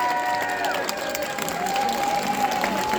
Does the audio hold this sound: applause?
yes